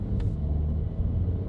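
Low, steady engine rumble from a Porsche 992 Carrera with a Valvetronic titanium exhaust, valves closed, cruising onto the road; a subdued, even drone with no talk.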